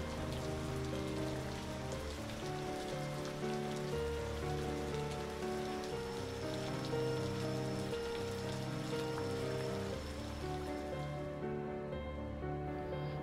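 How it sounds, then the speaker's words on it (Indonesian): Heavy rain pours steadily on an outdoor surface in Indonesia, a dense continuous wash of drops that holds at the same level throughout and then thins slightly toward the end. "kondisi cuaca hujan yang cukup deras"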